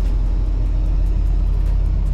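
A jeep on a Canadian road in extreme bad weather, heard as a steady, close, low engine and tyre rumble that stays even and loud through the short stretch, with a soft rhythmic thumping beneath it.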